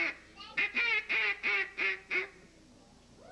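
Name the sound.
duck call imitating duck quacks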